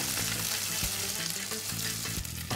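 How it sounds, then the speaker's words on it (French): Sea bass fillet frying in a pan, with a knob of butter spooned over it as it cooks; steady dense sizzle throughout, with a few soft scraping and spoon clinks, no talking. "En fin de cuisson, je rajoute une noix de beurre comme ça pour venir arroser en fait mon poisson."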